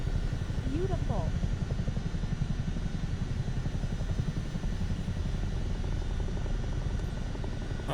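Chinook twin-rotor helicopter in Microsoft Flight Simulator 2024, a steady low rotor and engine drone heard from the cabin interior, continuous and fairly loud throughout, with a brief voice near the start.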